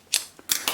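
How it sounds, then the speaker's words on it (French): Small scissors make quick snipping cuts into a plastic bottle, three sharp close clicks in fast succession. "on prend donc les petits ciseaux et on fait des entailles"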